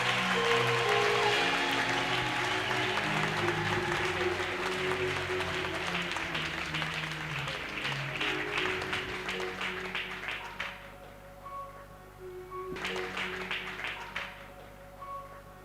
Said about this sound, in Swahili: Shangilia tu Yesu kwa makofi.